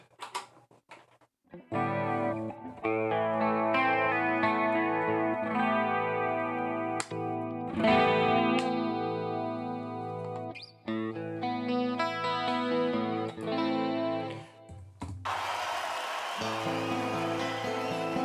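Distorted electric guitars from a live performance layered together in a heavy, loud metal band mix, with a brief cut near the end as a noisier crowd-like wash takes over.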